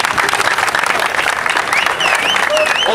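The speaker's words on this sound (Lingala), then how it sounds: "On peut l'acclamer." A crowd applauds loudly and steadily for Félix, dense clapping with a few cheers and whistles rising near the end.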